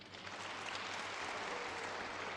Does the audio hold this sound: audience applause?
yes